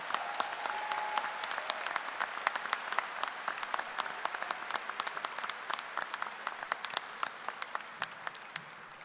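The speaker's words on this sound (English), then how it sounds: "Please recognize these individuals with a round of applause." A commencement audience gives a sustained round of applause for engineering faculty at a spring university graduation ceremony, dense steady clapping filling the hall throughout with no speech over it.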